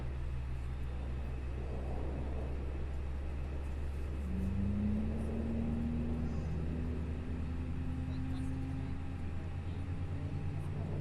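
Aircraft engines in a flight simulator spool up after pushback during an online flying event, a steady low rumble with a rising whine partway through, continuous and moderately loud.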